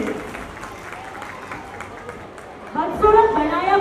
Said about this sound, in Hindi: तो ऐसे जेठालाल के लिए जोरदार तालियां हो जाए